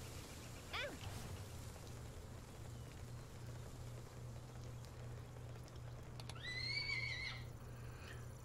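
A horse in the Palworld game neighs in a quick whinny early on, followed later by a second longer call, faint over steady rain-like patter and a low hum, with soft hoof sounds beneath.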